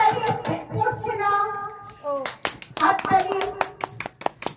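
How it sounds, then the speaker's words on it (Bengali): Hand clapping in a comedy skit about a singing contest: sharp, close claps start under a voice and then continue in a quick, uneven burst of separate claps. "হাততালি হাততালি হাততালি।"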